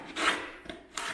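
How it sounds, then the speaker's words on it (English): Joint compound is scraped off a garage wall with the edge of a drywall sanding holder, giving two or three short, close, rasping strokes with brief pauses between them. "just kind of scrape it along the bottom and peel off any of that stuff"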